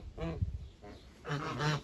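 Domestic geese, a gander and a goose, honking and cackling nearby in a short burst of nasal calls, fairly faint, with two clusters of calls separated by a brief pause.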